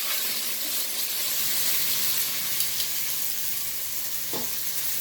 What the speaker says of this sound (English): we're gonna just let that sear for a while, and then we're gonna flip them over